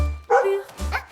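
A playful puppy gives two short, bright yaps in quick succession, close and clear against a low background.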